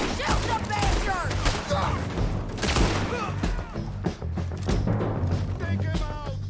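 Scattered gunshots and thumping volleys ring out in a Red Dead Redemption 2 shootout, irregular and fairly close, mixed under shouting voices.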